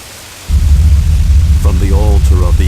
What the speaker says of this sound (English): Then, one day, a terrible storm beset the village.